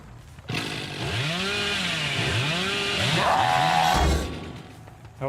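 A chainsaw in the Dead by Daylight video game revs loudly in a sustained, rising and falling whine for several seconds before cutting off.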